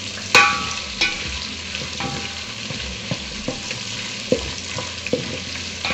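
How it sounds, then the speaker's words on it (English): Beef frying in oil in a large sufuria while pilau is being made, with a steady close sizzle and occasional sharp knocks and scrapes of stirring. "to my dry nyama or beef, I let it fry a little bit"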